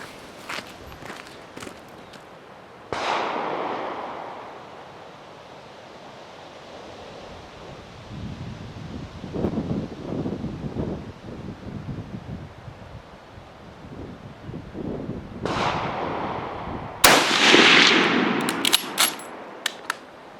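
An Enfield rifle fires a string of ten rounds at a 200-meter range outdoors, sharp cracks spaced apart against steady wind noise and faint shuffling, with two loud shots near the end.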